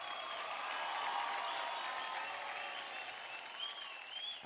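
Steady, full applause from a studio audience on a Marathi dance TV show, many hands clapping together for a performing couple, sustained and fairly even throughout without a break.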